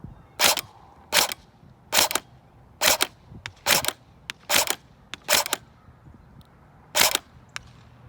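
A G3/SG1 rifle fires about ten sharp, evenly spaced shots at a target on a windy range, each loud crack standing alone against a faint gusty background with no talking.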